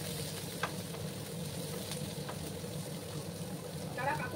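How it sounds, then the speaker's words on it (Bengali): Chopped onions frying in a pan for a Bengali potato and spiny gourd curry give a steady, close sizzle throughout, with a few light clinks of stirring. "একটু লাল লাল করে আমি পেঁয়াজগুলোকে ভেজে নেব।"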